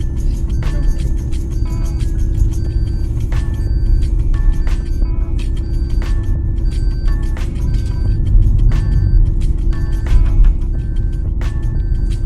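A car engine drones steadily at low revs while climbing a Ladakh mountain road toward Shinkula Pass. It is a continuous low rumble with a faint hum, heard from inside the car, with no talking.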